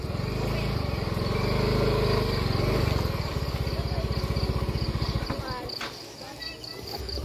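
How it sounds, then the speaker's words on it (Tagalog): A motorcycle engine idles and runs steadily up close at a Boy Scout jamboree campsite, then its pulsing throb slows and fades as the bike is brought to a stop and parked. "kaparkin lang namin yung motor mga idol ha"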